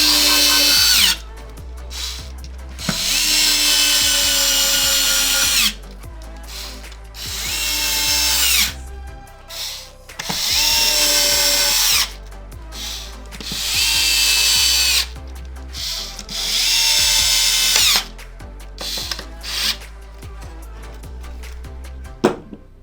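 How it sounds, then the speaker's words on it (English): Power screwdriver driving the main housing screws into an Xbox One X during reassembly, a series of loud close whirring bursts of one to three seconds each, separated by short pauses, with light clicks and handling between runs. "Main board screws, or not main board, main housing screws here. Let's screw them all in."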